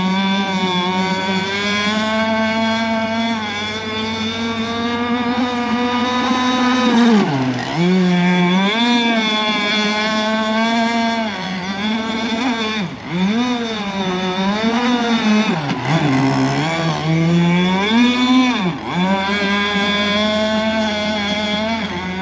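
An RC gas boat with a Zenoah 26cc two-stroke engine at about half throttle holds a loud, buzzing whine close by, its pitch dipping and surging repeatedly as the hull rides choppy water.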